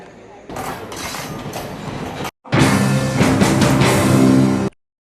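Rumbling rail noise from a train at Fort railway station in Sri Lanka, a steady mechanical roar with a brief cut, loud and close.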